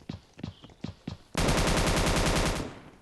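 Scarfall video game combat: several soft footsteps lead into a sudden loud burst of rapid automatic gunfire lasting over a second before it cuts off.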